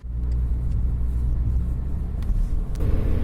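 Car driving along a road on the way to an animal shelter, a steady low engine rumble and road noise from inside the vehicle, constant and fairly loud with no talking.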